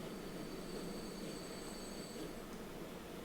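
A train running through the tracks in Transport Fever 2 gives a continuous, fairly faint rolling rumble with a thin high whine over it, steady throughout with a small click at the end.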